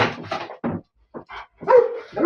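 Several dogs bark and whimper nearby in short, separate bursts with brief silences between them, fairly loud and close.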